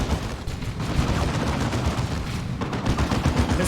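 Sustained gunfire and explosions from the Warhammer 40K strategy game Dawn of War 2 (Elite Mod), a dense, continuous barrage of rapid shots and blasts filling the whole stretch at steady volume.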